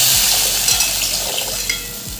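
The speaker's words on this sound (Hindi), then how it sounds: "तो अब इसमें पानी डाल देते हैं।" Water is poured into a pan of frying fish curry masala, and the hot oil hisses and sizzles steadily at close range, with faint stirring clinks and no voices.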